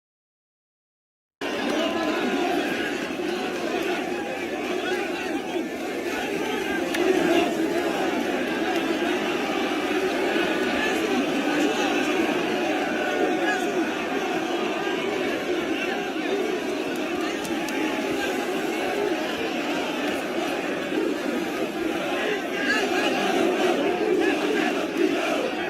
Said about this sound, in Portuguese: A chegada de Roger lá no meio da torcida, ó.